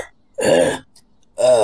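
An old man coughs, voiced by a narrator imitating the sound: two loud, raspy throat-clearing bursts close to the ear, separated by a short pause.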